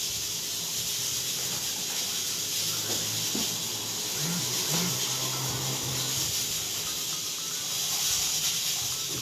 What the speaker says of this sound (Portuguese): Deixa eu desligar a panela de pressão.